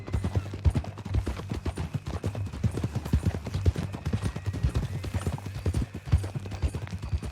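Horse hooves clip-clopping in Red Dead Redemption 2, a steady rapid rhythm of distinct close hoofbeats continuing throughout over a low ambient hum.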